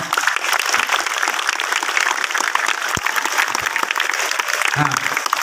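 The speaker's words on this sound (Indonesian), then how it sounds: "Tepuk tangan lah buat kalian semua." A crowd applauds continuously, dense rapid clapping that stays loud and steady throughout, with a few faint voices mixed in.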